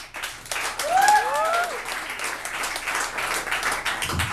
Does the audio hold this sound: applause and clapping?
yes